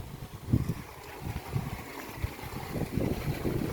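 A farm water pump motor runs on a dairy farm, giving a steady low, rough rumbling drone with uneven pulses.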